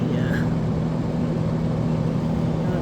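A 1987 Montgomery Wards by Frigidaire 7000 BTU window air conditioner, model VWE-5157A, runs with a steady, loud low hum and constant broadband whir throughout, an even mechanical drone with no pauses.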